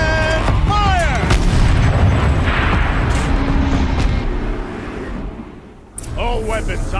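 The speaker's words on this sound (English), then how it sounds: "Rotate turret! And fire!" A heavy turret fires in the video game Horizon Zero Dawn, booming blasts with a rumbling tail and swooping electronic effects, followed by a pause and a fresh burst near six seconds, loud and close.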